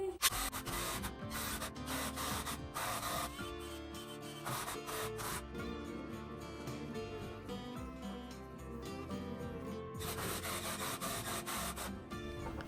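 A power tool sands wood while garage storage shelves are being built, a continuous rasping drone with bursts of harsher grinding near the start and again toward the end, close and steady with no talking.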